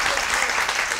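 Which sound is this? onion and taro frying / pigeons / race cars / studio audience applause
studio audience applause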